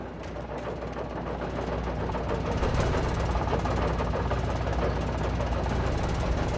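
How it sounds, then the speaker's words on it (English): Chainsaw droning steadily in the horror game Alan Wake Remastered, a loud continuous rough engine buzz that holds for the whole stretch without letting up. "That's when I heard the chainsaw."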